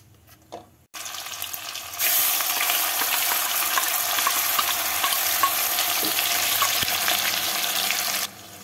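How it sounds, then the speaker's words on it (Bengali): Boiled, ground onion paste hits hot oil tempered with cardamom, cinnamon and cloves, breaking into a loud, steady sizzle and crackle that holds for several seconds after a brief clatter, then drops away at the end. "এবার এর মধ্যে সেদ্ধ করে বেটে রাখা পেঁয়াজটা দিয়ে দেব"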